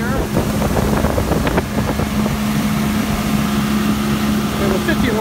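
A 1987 Boston Whaler 15 Super Sport, a 15-foot motorboat with a 50-horsepower outboard, running on a reservoir, with a steady engine drone under heavy wind noise throughout.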